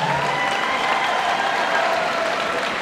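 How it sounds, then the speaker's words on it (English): Sustained applause from the crowd at a YOKKAO 43 Muay Thai event for both fighters, a dense, steady clapping that fills the whole stretch without pause. "please, a massive round of applause for both fighters"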